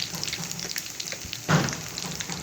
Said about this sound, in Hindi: लो फ्लेम पे मैं इन्हें फ्राई करूँगी